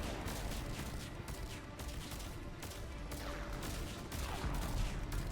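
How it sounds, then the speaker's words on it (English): Rapid bursts of futuristic weapon fire in the Mass Effect Legendary Edition video game on Insanity difficulty, a dense string of sharp shots with combat noise, steady and fairly loud. "He's like firing 2 bullets and then running."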